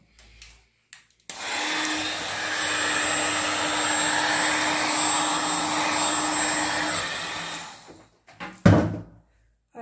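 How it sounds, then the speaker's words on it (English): Heat gun blowing across poured acrylic paint, a steady, loud airy roar that runs for about six seconds and then cuts off, followed by a few light clunks. "I'm using heat gun for that kind"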